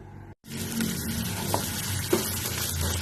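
Chopped onions frying in a pan, a loud close continuous sizzle after a brief silent gap, with a couple of small pops and stirring scrapes.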